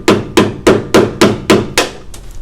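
A hammer strikes a chisel to cut the head off a rivet on an M1152A1 HMMWV rocker panel: six sharp metallic blows in an even rhythm, close and loud, followed by a fainter seventh tap.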